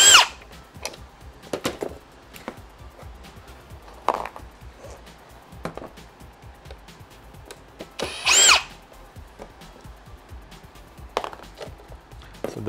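A power drill backing screws out of a Toyota Avalon console, with short whirring bursts at the start and midway, plus scattered clicks and taps of handling in between, close by and without talking.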